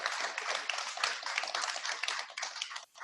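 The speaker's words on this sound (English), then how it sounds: "round of applause" A small audience at a video game studio careers event claps in steady, dense applause that fills the space and tails off near the end.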